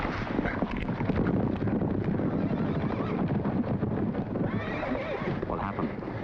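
A horse whinnies loudly amid clattering hooves and wind-blown outdoor noise, a busy continuous scene with the neigh standing out near the middle.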